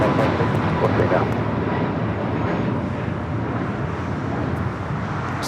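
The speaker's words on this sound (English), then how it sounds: "Air Canada Dreamliner just touching down here on the south side" An Air Canada Boeing 787-8 Dreamliner touches down on the south side runways at LAX, a loud, steady broadband jet roar that holds for the whole stretch, with a voice faintly audible underneath.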